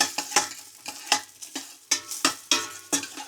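Onion sautéing in oil for a home-style shawaya chicken mandi, with a soft sizzle under a run of sharp stirring scrapes that come in uneven bursts, close by and moderately loud, with no talk.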